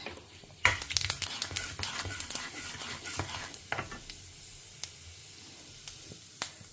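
Mustard seeds and urad dal crackling in hot oil for a taro root dish, sharp popping bursts over a continuous sizzle, busiest early and thinning out to scattered pops.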